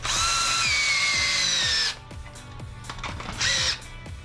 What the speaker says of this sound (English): You don't need to use a drill like I'm doing.